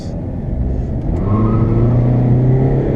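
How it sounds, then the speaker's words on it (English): A tuned car accelerating hard from a launch in second gear on winter roads, its engine a loud, close, rising rumble that swells and holds steady, with no talking. "get into it in second gear, and it spins the tires, and away we go"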